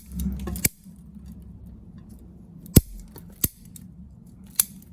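Pruning shears snip Mugo pine candles in a few sharp, close clicks spaced over several seconds, with a low outdoor rumble between cuts.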